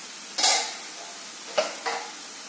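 Prawn thoran frying in a pan is stirred with a utensil, giving three distinct scraping strokes with light sizzle between them, close and fairly loud.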